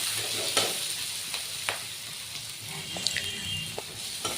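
Onions and green chilies fry steadily in a pan, a continuous soft sizzle broken by a few sharp clicks and scrapes of stirring, close and alone with no voices.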